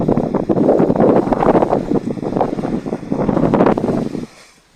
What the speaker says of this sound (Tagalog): Gada kusog sa hangin.